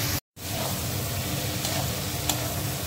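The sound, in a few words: spice masala frying in a pan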